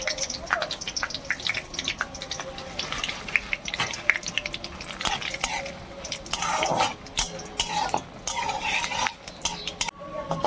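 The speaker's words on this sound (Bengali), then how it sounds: "আমি কটা তেজপাতা, শুকনো লঙ্কা, ডালচিনি, লবঙ্গ ফোড়ন দেবো।" Bay leaves, dry red chillies, cinnamon and cloves temper in hot oil in a pan before goat meat goes in, a light sizzle under frequent clinks and scrapes of a metal spoon, with no speech.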